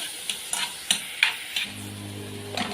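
Onion, garlic and chopped pepper being stirred in a pan, a quiet sizzle with five or six light scraping and tapping stir strokes at a steady pace, close, no talking.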